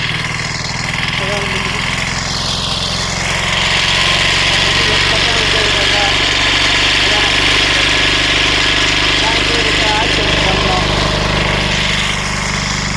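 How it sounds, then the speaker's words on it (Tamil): A loud, steady engine-driven water pump drones close by with a constant rumbling hum, and a voice talks over it at times, in a village in Villupuram, India. "இப்போ இன்ஜின் லைனாக தண்ணி எடுத்துக்கோம்."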